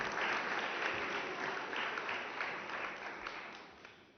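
Steady applause from a crowd at a press conference agreement signing, a dense wash of clapping that slowly fades toward the end.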